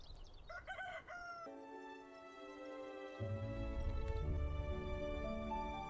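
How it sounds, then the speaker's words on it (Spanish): A rooster crows loud and near in one long drawn-out call, followed by a sustained musical drone that continues beneath and after it. "El gallo seguía cantando a la misma hora"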